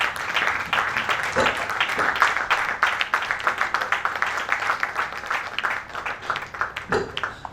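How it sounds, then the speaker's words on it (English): Sustained applause from an audience at an investiture ceremony for a professional chapter chairman in Lagos, dense clapping filling the room steadily for several seconds with a faint voice briefly under it. "Please a round of applause for our chairman"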